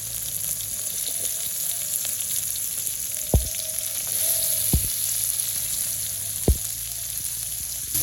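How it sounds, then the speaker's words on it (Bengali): Onion and egg frying in a pan in a village kitchen, a steady close sizzle throughout with a few sharp clinks of a utensil, no talking. "ডিম আর পেঁয়াজ ভাজা হয়ে গেছে"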